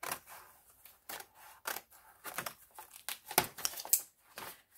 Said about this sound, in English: I'm going to take some scissors, and I'm just going to cut